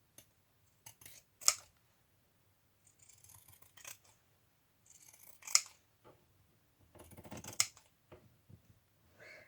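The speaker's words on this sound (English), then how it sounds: "Let me first cut off" Scissors snip through the paper cover of a bohemian junk journal in a few separate bursts, each with sharp metallic blade clicks and papery cutting, close and quiet, with pauses between cuts.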